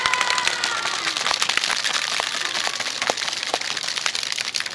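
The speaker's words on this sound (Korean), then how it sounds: "우리 할머니 두 분에게 박수를, 환영의 박수를 드리도록 하겠습니다" A crowd at the Wednesday demonstration claps steadily to welcome two grandmothers, a dense, even patter of many hands carrying on without a break.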